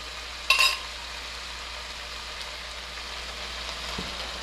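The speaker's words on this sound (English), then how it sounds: "we'll let that simmer for a few minutes" Sauce simmering over low heat in a pan in a Southern cooking demonstration gives a steady, soft sizzling hiss, with a brief clatter near the start.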